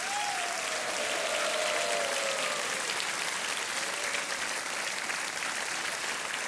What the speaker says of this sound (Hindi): मैं जनता से अनुरोध करूंगा कि वो तालियां बजाते हैं।